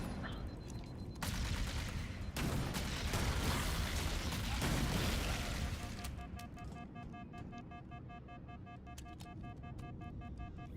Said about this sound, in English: Ah, fucking rocket launcher.